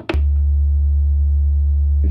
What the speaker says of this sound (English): And the same with the sine wave.